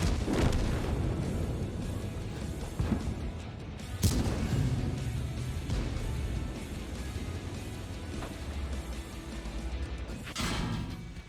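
Tank cannon fire and shell impacts in a tank battle video game, sharp booms and crashes at about 0, 3, 4 and 10.5 seconds over a continuous rumbling battle background.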